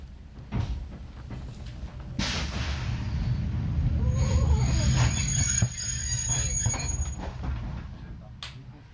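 An Oigawa Railway train pulled by an electric locomotive, moving at about 20 km/h, screeches and squeals as its coupler separates and it stops suddenly, a sustained metallic rail squeal with rumbling and clanks, moderately distant.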